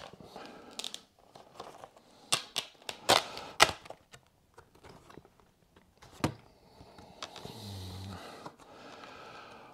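Collector's edition Blu-ray digipack being opened by hand: scattered crinkles, taps and sharp clicks of cardboard and plastic packaging, close and fairly quiet, with a few louder snaps in the middle and no talking.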